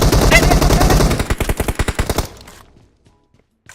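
Rapid bursts of automatic gunfire in the PUBG Mobile battle royale game, loud and dense at first, then breaking into separate sharp shots before fading into near silence, with a faint final crack at the end.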